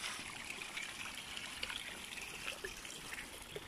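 Water trickles from a small spring near a little bridge, a faint steady babble and patter heard close and alone, with no one speaking.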